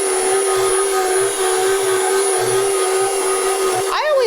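KitchenAid Pro 600 and Hobart stand mixers kneading bread dough, a steady loud motor whine with a high pitched tone running throughout, with intermittent low thumps as the dough turns and a brief change near the end.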